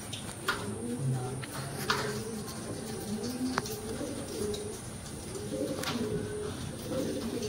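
Pet pigeons in a loft coo in soft, repeated low phrases through most of the stretch, fairly close, with a few sharp clicks and a faint background hum; someone talks at times.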